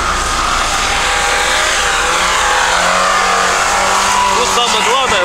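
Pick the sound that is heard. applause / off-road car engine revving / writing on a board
off-road car engine revving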